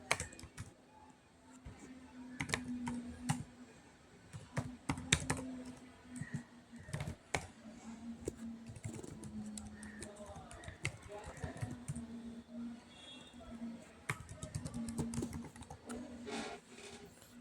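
Computer keyboard typing while filling in a sign-up form, with rapid irregular key clicks in bursts, close and clear, and a faint hum in the background.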